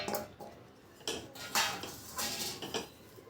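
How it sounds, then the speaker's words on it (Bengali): A utensil stirring grated coconut in a pan to dry it, making soft, scraping, clinking strokes at an irregular rhythm, close and fairly quiet. "তারপরে একটু ভালো করে নেড়ে নিতে হবে যাতে কোকোনাটটা একটু ড্রাই হয়ে যায়।"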